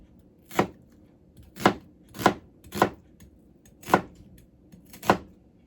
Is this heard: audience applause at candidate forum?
no